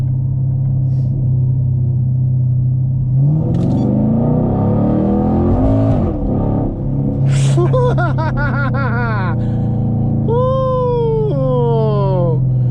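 A 2018 Chevy Camaro SS 1LE V8 engine, not supercharged, rumbles loudly and steadily, with rising revs partway through and people talking and laughing over it.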